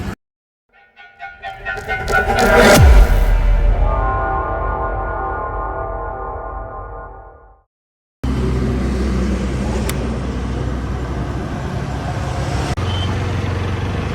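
A vehicle speeds past on a national highway in the early morning during an Apache RTR 160 motorcycle ride, a rising, loud whoosh that fades away, then steady road and wind rumble.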